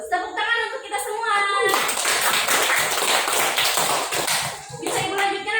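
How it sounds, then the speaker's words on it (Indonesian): Fifth-grade classroom pupils clap together in a short, lively burst, framed by a voice talking before and after. "Tepuk tangan untuk kita semua"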